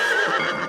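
A cartoon horse neighs in an animated chariot-race scene, a loud, close, wavering whinny lasting under a second with no voices over it.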